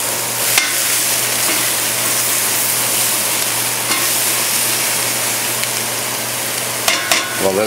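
Vegetables for a beef stew with potato, black beans and spinach sweating in a pot, a loud, continuous close sizzle with a low steady hum beneath and a few sharp clinks near the end.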